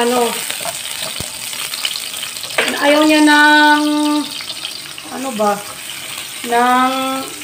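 Sliced onion sizzles as it fries in a pan, a steady close hiss with a person talking over it.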